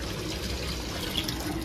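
Running water overflowing and draining away indoors during clothes washing, a steady soft trickling and pouring wash heard at close range with no voices.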